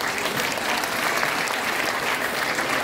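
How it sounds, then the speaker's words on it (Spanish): Steady, thick applause rises from a gathered community crowd at a Christmas basket distribution in Tierra Blanca, continuous and fairly loud throughout with no clear speech over it. "para que yo pido fuertes aplausos"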